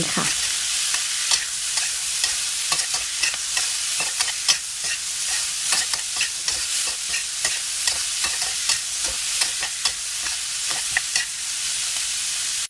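Pork stomach and pickled mustard stems are stir-fried in a hot pan, giving a constant loud sizzle. Quick scrapes and clatters of the spatula repeat steadily through it, with no talking.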